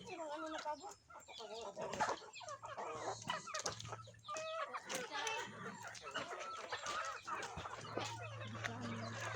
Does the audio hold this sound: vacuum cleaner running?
no